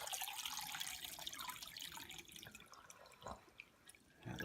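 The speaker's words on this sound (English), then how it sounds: "Just fill this up with a little bit more water." Water trickles and splashes steadily into a small native fish tank already holding fish, snails and plants, a faint continuous pour with a few drips near the end.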